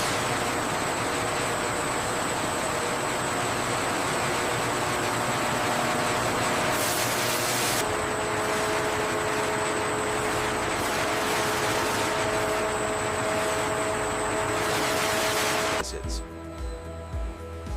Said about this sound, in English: Here we see the dual-train filtration skids in action, actively filtering the therapeutic protein solution